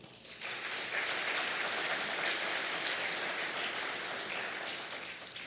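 A large audience at an international finance summit cocktail evening applauds the group's CEO, a loud, dense, sustained roar of clapping that rises quickly and holds steady with no talk over it.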